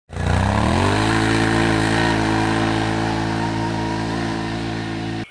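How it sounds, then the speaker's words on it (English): A Can-Am Outlander 1000R XT-P ATV engine revs up hard from low, rising quickly to a loud, steady high-pitched scream held close by for several seconds before cutting off abruptly. "As soon as you crack the throttle, the Outlander just screams from the low end."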